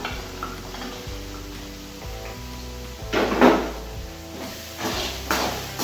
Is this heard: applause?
no